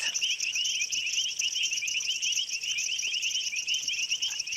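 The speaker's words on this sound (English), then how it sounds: "You can hear all the painted reed frogs, the bushveld rain frogs." Painted reed frogs and bushveld rain frogs call together at night in the African bush, a dense, continuous chorus of high, shrill chirps and trills running steadily throughout without pause.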